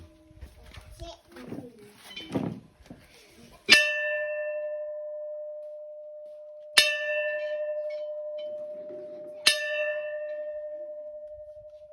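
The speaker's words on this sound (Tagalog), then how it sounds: "Ayan guys, nag-bell tayo kanina doon" A bell at a house rings out in three clear, separate strikes a few seconds apart, each chime ringing on and fading slowly, after people talk nearby.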